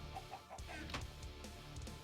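Chickens clucking in the Minecraft video game, a few short repeated clucks at close range over steady background noise, with no talk.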